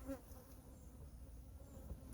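Honey bees buzzing in a bee yard, a steady close drone of many insects with individual bees passing near, continuous and fairly quiet with no talking.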